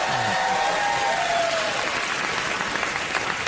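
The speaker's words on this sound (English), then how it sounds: "every time you mention them, they applaud themselves" A late-night talk show studio audience applauds, a dense, steady roar of clapping that fills the room, with a brief voice heard near the start.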